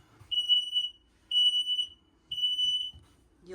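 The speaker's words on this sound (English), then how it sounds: "We also have a carbon monoxide LP detector underneath that side there that makes that a little annoying noise." An LP and carbon monoxide detector in a Forest River Rockwood Geo Pro travel trailer sounds three shrill, steady electronic beeps about a second apart. The tone is thin and moderately loud, with faint background noise between beeps and no talking.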